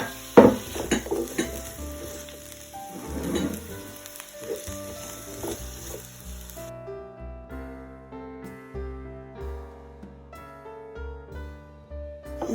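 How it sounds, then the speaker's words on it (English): Apples toast and sizzle in coconut oil in a pan over medium-high heat, with scraping stirs and utensil clatter, then fade as a light music track continues. "On a medium-high heat, add your coconut oil and toast your apples for about 2 to 3 minutes."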